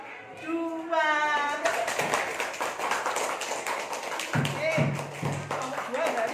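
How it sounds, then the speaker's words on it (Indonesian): Children clap for a group of classmates in an elementary school classroom, a scattered patter of hands mixed with kids' voices and chatter throughout. "Tepuk tangan kelompok"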